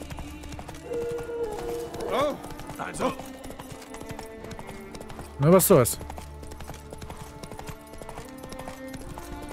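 Horse hooves clip-clop in a gallop in the video game The Witcher 3: Wild Hunt, a steady rhythmic beat under someone talking, with a few louder bursts of sound.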